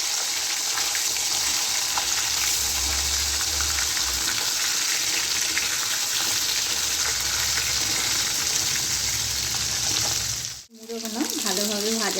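Fish heads fry in oil with a loud, continuous bubbling sizzle close by; the sound briefly cuts out near the end, when a voice is heard.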